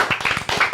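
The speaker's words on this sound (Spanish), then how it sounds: "¡Un aplauso!" Brief burst of audience clapping welcoming a Puerto Rican Independence Party representative at a youth politics talk in Puerto Rico, a few quick claps close and moderately loud, lasting under a second.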